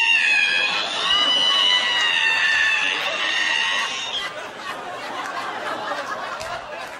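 A stand-up comedian's voice imitates the squeaky opening of an ironing board, a long high wavering creak over several seconds, followed by audience laughter and chatter.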